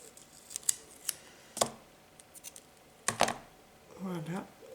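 Scissors snip repeatedly through a small strip of 3D tape while making a handmade card from scraps, with lace stuck to the blades; several sharp close cuts come in bursts, followed by a brief murmured vocal sound.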